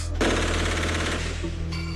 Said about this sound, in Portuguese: esse tipo de fuzil tanto pode ser usado em rajadas